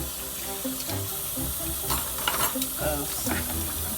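Water runs steadily into a kitchen sink as scissors are washed, a continuous splashing hiss with occasional clinks of metal.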